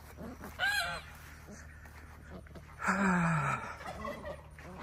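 Turkeys gobble in a turkey pen, two loud bursts of gobbling rising over a steady low background, the second fuller and longer, with quieter rustling between them.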